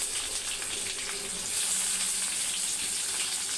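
Thinly sliced onions frying in oil tempered with mustard seeds and curry leaves, a steady close sizzle that swells slightly partway through.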